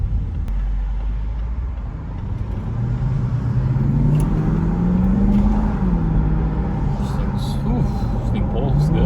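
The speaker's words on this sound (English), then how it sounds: "I barely have to accelerate and this thing's taken off" A supercharged 2016 Range Rover accelerates, its engine rumbling loud and steady as the pitch rises, sits briefly, and climbs again, with road and cabin noise underneath throughout.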